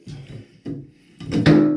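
A snug plastic shower head being twisted off a bathroom shower spigot, giving a few short scraping, creaking bursts, the last one louder and grinding, close up with no talking.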